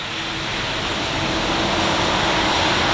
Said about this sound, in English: It is pouring down rain right here